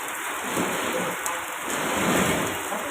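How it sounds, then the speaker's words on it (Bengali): Heavy rain pours down steadily in a dense, continuous hiss, loud and close, with no voices over it. "ঝপঝপ করে নেমে গেছে বৃষ্টি"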